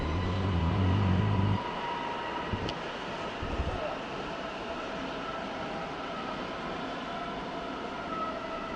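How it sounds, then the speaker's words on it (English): An ICE 4 high-speed train on the main line approaching München Hbf, heard as a steady broadband rumble with a strong low hum at the start that fades after a couple of seconds, leaving a continuous distant roll. "Here we've got an ICE 4 unit"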